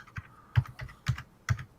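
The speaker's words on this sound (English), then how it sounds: "Well, that's quite a clacky keyboard." Keystrokes clatter on a clacky computer keyboard during a live retrocomputing roundtable, with a few distinct, fairly close clicks in an uneven rhythm and no talking.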